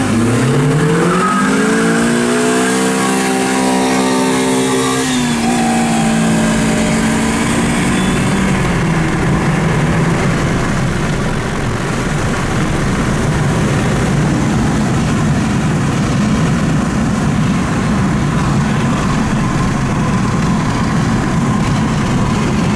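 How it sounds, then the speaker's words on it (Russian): A BMW 116i F20 turbo accelerates hard, its engine note rising through several climbing sweeps in the first seconds, then settling into a loud, sustained roar with road and wind noise, heard from close inside the car and without speech. "Сера, это турбо, ты видишь, она давит"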